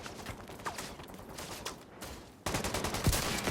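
Sniper rifle fire in The Division 2, sharp shots cracking amid game combat ambience, with a louder burst of noise near the end.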